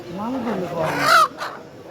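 Chickens at a poultry market, with a short bright cluck or squawk in the middle under steady chatter and bargaining voices close by.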